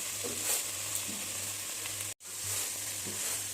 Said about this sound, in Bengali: মশলাটাকে কষিয়ে নিতে হবে যত সময় মশলাটা তেল ছেড়ে না দেয়